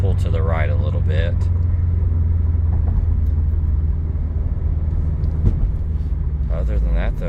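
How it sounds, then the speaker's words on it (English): A 2014 Subaru Impreza WRX STI engine gives a steady, deep rumble while driving and shifting gears, heard from inside the car, with someone talking over it at the start and end. "Car sounds good, shifts nice and clean."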